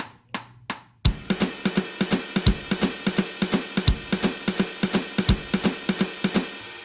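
Jazz swing track in a triplet feel with an instrument playing along, steady rhythmic pulses of drums and comping moving in an even swung groove after a few sparse opening hits, moderately loud and close.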